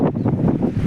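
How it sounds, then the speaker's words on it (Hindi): Strong wind gusts buffet the microphone outdoors near a seaside promenade and garden, a loud, continuous rumbling roar that swells and dips in waves, with no voices. "ये हवाएं बहुत तेज़ चल रही है"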